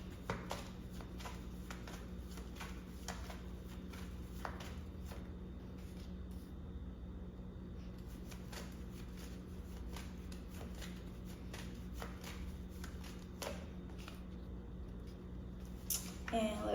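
Tarot cards shuffled by hand in a quiet room, soft repeated riffling and tapping of card edges over a steady low hum.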